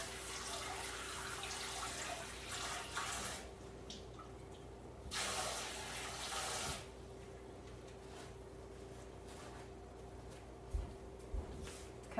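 Water from a kitchen tap runs and splashes as dirt is rinsed off lettuce, coming in two brief louder bursts over a quiet, steady background hum, with a few small knocks near the end.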